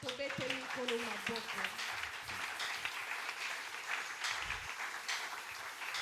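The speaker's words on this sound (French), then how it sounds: "On applaudit pour le Seigneur." A church congregation applauds during a worship service, a dense, continuous wash of clapping that starts beneath a voice and then carries on steadily on its own.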